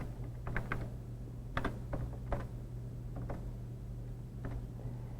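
Computer keyboard typing code in a 1993 developer session, irregular clusters of close clicking keystrokes over a low steady hum, no voices.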